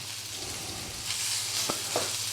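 Scrambled egg cooking in an all-in-one pan beside bacon for an English breakfast: a steady, soft sizzle with a few sharp clicks of a utensil against the pan.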